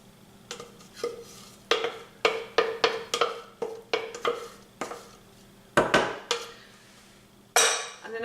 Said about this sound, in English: I'm going to mix these together until they become like a paste